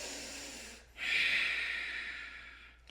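A single deep breath in a yoga twist pose: a short sniff, a brief pause, then a long, airy exhale that slowly fades, close and alone.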